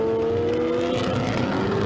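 A GT race car's engine runs steadily at Rockingham during a British GT round, a sustained droning tone with bright harmonics that holds without changing pitch much, loud and close throughout.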